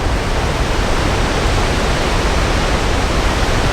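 Chaudiere Falls waterfall rushing with a steady, dense roar of water throughout, constant and loud with no pauses or changes, with no voices present.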